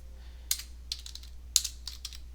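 A name typed on a computer keyboard: a handful of quiet, close key clicks in an uneven rhythm over faint background hum.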